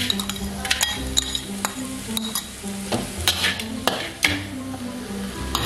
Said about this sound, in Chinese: 中火慢慢炒